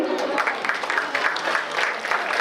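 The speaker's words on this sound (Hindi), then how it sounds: "ताली बजाऊंगा अपन ही भाई।" Steady applause from an audience at a village-level Chhattisgarhi Olympics event, continuous and moderately loud throughout with a faint murmur of voices underneath.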